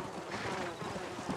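Hoofbeats of a horse in a video game set in an undead western world, a steady clip-clop gait running under game sound and a speaking voice.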